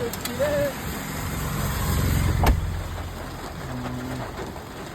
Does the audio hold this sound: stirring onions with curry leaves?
no